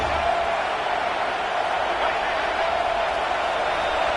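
A stadium crowd in a college football video game, with the Ohio State Buckeyes home crowd roaring on third down, sounds as a steady, dense wash of cheering that stays even throughout.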